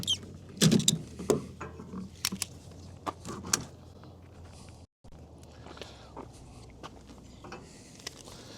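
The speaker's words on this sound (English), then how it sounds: "I'm just going to undo my straps." Straps on a kayak being undone, with scattered clicks, rustles and buckle rattles at close range, some louder bursts early and quieter fiddling later.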